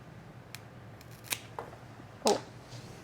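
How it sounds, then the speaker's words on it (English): Scissors snipping a plant stem, a few sharp close clicks, the last one loudest, in an otherwise quiet room with no talking. "I'm going to cut right here."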